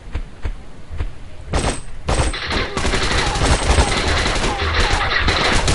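Automatic gunfire rattles in a shooting video game: a few separate shots open, then dense rapid bursts pour out almost continuously, loud and close.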